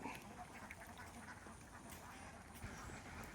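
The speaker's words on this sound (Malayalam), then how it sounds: "താറാവിൻ്റെ കൂട്ടം." A flock of ducks quacking at a backwater paddy area in Maranchery, with scattered calls over a soft, distant outdoor ambience.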